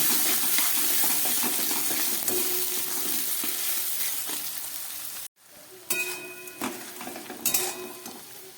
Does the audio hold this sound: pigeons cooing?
no